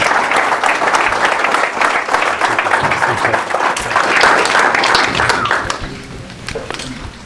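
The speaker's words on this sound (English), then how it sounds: "big round of applause for our panel" An audience at a real estate meetup on new construction in Knoxville gives the panel a loud, sustained round of applause that tapers off near the end.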